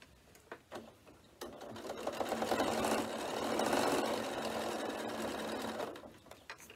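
A sewing machine stitches a sequin pencil case in a quiet indoor setting, with a few soft clicks before it runs in one steady sustained buzzing burst that slows and stops near the end.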